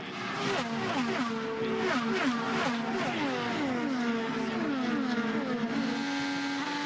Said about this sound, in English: Let's hear the cars through turn 4.